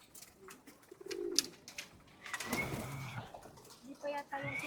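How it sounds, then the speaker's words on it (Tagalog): Homing pigeons coo softly after flying back into their loft, with low throaty coos and a few chirps spread across the moment, alongside some faint rustling and background noise. "May bumalik tayong kalapate."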